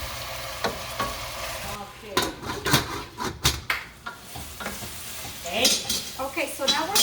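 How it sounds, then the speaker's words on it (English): Onion cooking down in a pan, frying and sizzling with stirring and utensil clatter, some sharp knocks and scrapes in the middle, then a brighter hiss toward the end. "our onion is cooking beautifully, and we're just going to continue letting it cook down"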